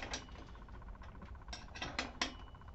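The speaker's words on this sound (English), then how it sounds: "Take your 17 millimeter wrench," A 17 mm wrench tightens the fork axle nuts on a Stolen Heist BMX bike, giving a series of close, quiet metallic clicks and ratcheting taps at an irregular rhythm, with no talking.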